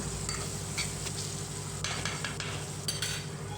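Eggplant sizzles steadily in a hot pan, with a few soft scrapes of stirring over the constant frying hiss.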